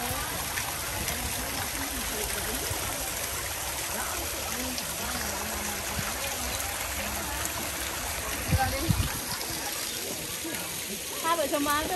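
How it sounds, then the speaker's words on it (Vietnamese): Waterfall and stream at a village in Buon Ma Thuot, Vietnam, rushing in a steady broadband wash that runs throughout, with people talking over it. "nhà già làng có cái thác đẹp không?"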